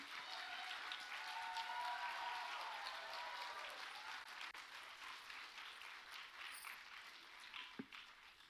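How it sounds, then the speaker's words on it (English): An audience gives a steady round of applause after a vocal arangetram concert, clapping evenly and fairly distantly for the whole stretch, tapering slightly near the end. "Can we have a big round of applause?"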